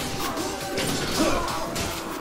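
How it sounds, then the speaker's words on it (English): In the Mount and Blade video game, a shield is smashed in battle, with a sharp crashing impact near the middle amid thuds and swishing combat noise. "he just smashed my shield"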